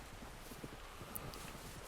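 Horse hooves clip-clop on a trail in Red Dead Redemption 2. The steady walking hoofbeats are faint and even, heard against quiet ambient noise with no talk.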